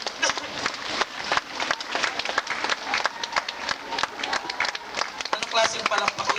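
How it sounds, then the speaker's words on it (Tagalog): A church congregation claps loudly in uneven bursts, sharp overlapping hand claps with voices mixed in underneath. "Anong klaseng palakpak yan?"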